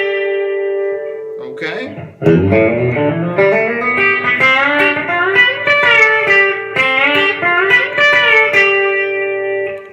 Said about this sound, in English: So now with the bender it sounds like this.